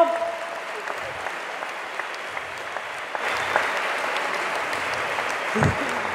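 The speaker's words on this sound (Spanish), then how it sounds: "Me mata que aplaudan esto" Student audience applause at a student gathering in Argentina, a steady, moderately loud patter of many hands that swells a little past the midpoint, with a low thump or two near the end.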